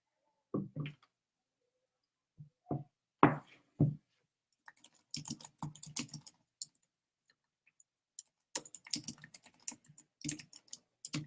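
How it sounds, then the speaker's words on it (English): Someone types on a computer keyboard in scattered bursts of close clicking keystrokes, pausing between runs, during a quiet online session. "Sorry, you have to hear me typing."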